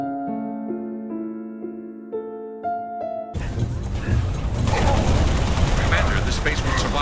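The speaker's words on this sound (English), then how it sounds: "The salvo from that Corvette." Heavy salvo fired from a Covenant Corvette in the video game Halo Reach crashes in after a quiet musical passage, a loud, sustained roar of rapid blasts and impacts that continues to the end.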